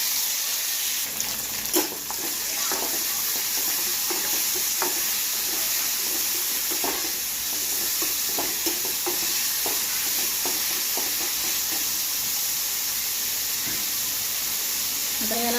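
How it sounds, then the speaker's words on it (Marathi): Chopped onion frying in a pan with bay leaf, cardamom, cinnamon and cloves for paneer masala, a steady loud sizzle with occasional scraping stirs throughout. "आता याला आपण छान असं ब्राउनिश कलर येईपर्यंत आपल्याला याला भाजून घ्यायचं आहे कांद्याला"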